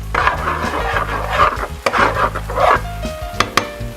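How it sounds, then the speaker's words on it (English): Shallots and garlic sweating in a pan, a steady soft sizzle with recurring scraping stir strokes and a few sharp utensil clicks near the end, close and moderately loud, with no talking. "So we're going to add the shallots. We're going to let those sweat till they get translucent."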